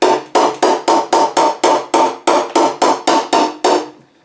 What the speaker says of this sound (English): I'll try to hold that dolly right on that dent, and it makes a different sound